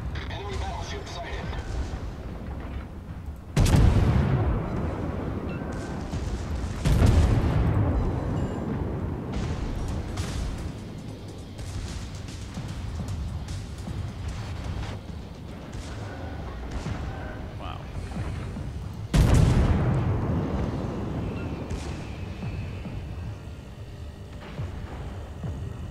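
Heavy battleship artillery salvos in World of Warships boom three times, deep and loud, spaced several seconds apart over a steady rumbling background, with a voice talking between them.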